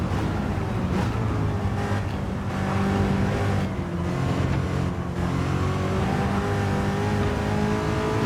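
Ferrari race car in Gran Turismo 7 at Sarthe, its engine droning loud and close at high revs with harmonic whine, brief dips as it shifts and then climbs again through a chicane.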